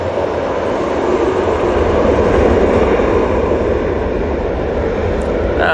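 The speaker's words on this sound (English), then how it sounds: "Seven 800 TUI now departing." A TUI Boeing 737-800 airliner departs Manchester Airport, its engines giving a loud, steady broadband roar that holds throughout with no talk.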